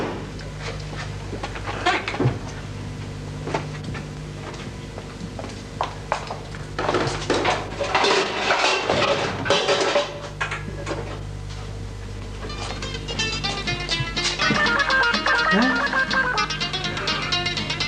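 Metal household utensils and pots crash and clatter as they fall, a dense burst of rattling metallic hits in the middle of steady indoor background noise.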